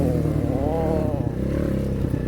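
A motorcycle engine runs steadily close by on a ride ahead of rain, its rumbling tone rising and settling as the rider works the low gears, with no clear shift breaks and no voices.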